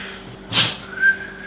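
A person whistles indoors, a short airy burst followed by a brief clear whistled tone, close and fairly quiet, with no talking.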